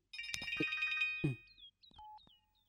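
A telephone rings with a bright trilling electronic tone, followed by a few shorter chirping beeps, clear and close with no talking.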